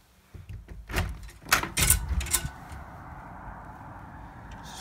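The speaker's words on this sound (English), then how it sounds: "Just open the door here" A door is opened to the outside in sub-freezing cold, a short burst of latch clicks and handling knocks followed by a faint steady outdoor hiss, close and fairly quiet.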